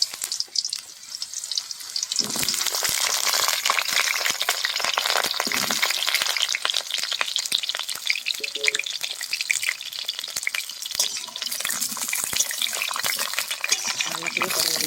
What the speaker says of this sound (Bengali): পটলগুলো ভেজে নেব, তেলের মধ্যে পটলগুলো দিয়ে দেবো।